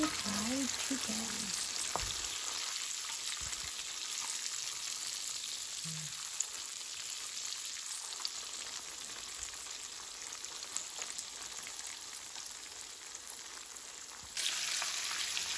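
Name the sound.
crispy fried chicken frying in oil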